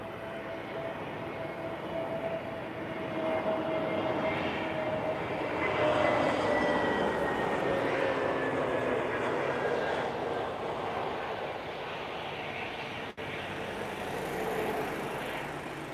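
A TAP Air Portugal airliner comes in to land at Lisbon Airport on a cloudy, windy evening. Its engines make a broad, steady roar with a slowly falling whine, swelling midway and holding, and the wind rumbles underneath.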